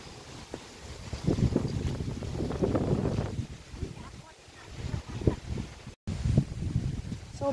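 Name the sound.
strong wind blowing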